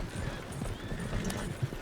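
Horse hooves clip-clop in Red Dead Redemption 2, a brief burst of close, rhythmic hoofbeats on the ground, with faint background sounds beneath them.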